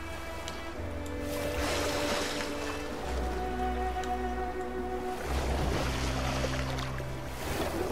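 A boat moving across open water in the video game Detroit: Become Human, with a steady low engine drone, sloshing waves and a faint wind wash, rising and falling in intensity with no voices.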